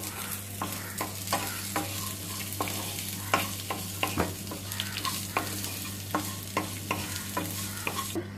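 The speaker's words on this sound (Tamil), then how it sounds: "இப்போ அதோட வெங்காயமும் பச்சை மிளகாயும் சேர்க்குறோம். நம்ம சேர்த்து நல்லா வதக்கலாம்." Onions and green chillies stir-fry in a hot pan, a steady sizzle with repeated scraping stirs of a spoon at an irregular rhythm, close and moderately loud, no voices.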